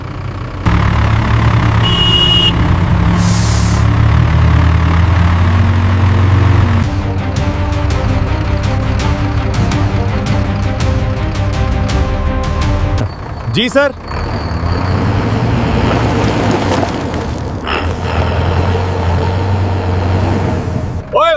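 An Ashok Leyland truck engine drones loudly and steadily with a rhythmic mechanical chatter, broken by sharp hissing bursts of air brakes, while a man briefly answers in speech.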